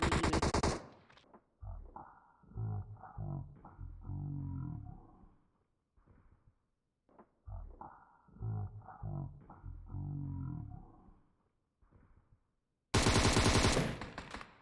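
Gunfire in the video game PUBG on the Sanhok map, with loud bursts of rapid automatic shots at the start and end around deep rumbling roar-like sounds and stretches of near silence.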